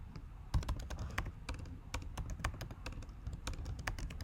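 Keys clatter on a computer keyboard during a programming session, a close, steady run of irregular sharp clicks over a low background hum, with no voices.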